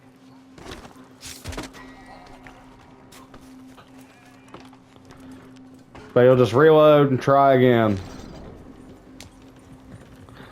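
Red Dead Redemption 2 horse whinnying loudly and close, two drawn-out neighs in quick succession following a stretch of quieter game ambience with faint hoof sounds, while someone talks before and around them.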